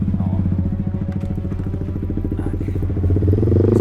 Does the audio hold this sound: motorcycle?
yes